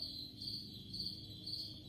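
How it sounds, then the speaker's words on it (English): Pet crickets chirp in steady, repeating high-pitched pulses close by, quiet and alone against a soft background hum on a morning. "you can hear my pet crickets"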